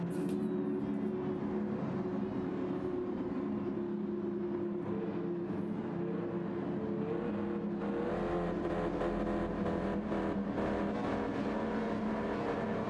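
Racing car engine in the Gran Turismo 7 video game, a Japanese car on a race at Barcelona, droning steadily with layered tonal hum, faint and distant under a busy game mix, with a rising surge toward the end.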